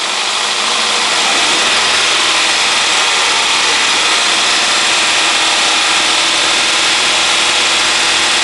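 A warm Honda CR-V 2.0 engine runs steadily at around 2000-2500 rpm with a knocking fault, a loud, close, constant mechanical drone with a harsh rattling edge.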